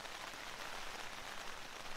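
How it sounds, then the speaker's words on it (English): Steady, dense rain patters on the fabric of a lightweight backpacking tent, a continuous close hiss of drops with no pauses and no voices. "Wow, the rain's getting really bad now."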